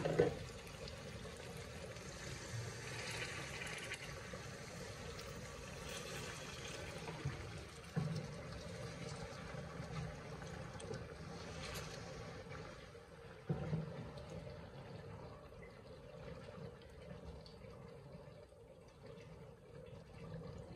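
Water is poured into a pan of tel koi fish curry, giving a faint, low trickle and splash with a few brief louder pulses in an otherwise quiet kitchen.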